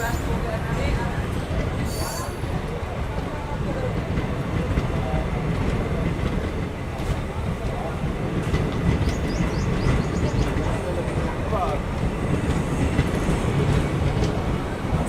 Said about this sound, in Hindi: और अभी अपनी ट्रेन निकल रही है Pandu Pindara junction railway station से।